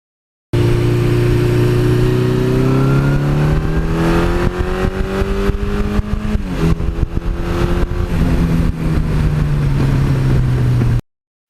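A 1982 Suzuki GS1100E motorcycle engine runs steadily up close and loud, its pitch rising smoothly as it revs up, then easing back down, with no voices over it.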